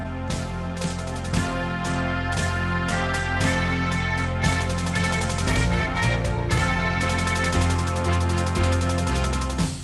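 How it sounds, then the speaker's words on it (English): Bagpipes backing track with a steady droning sound and chanter melody, dense and continuous at an even loudness throughout, with no talk over it. "Bagpipes. And so if you do bagpipes, it's going to sound like this."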